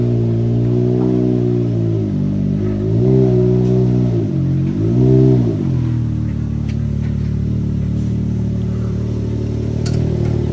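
A Can-Am side-by-side engine revs up and down in several strong surges before settling into a steady, loud drone, close by with no talk.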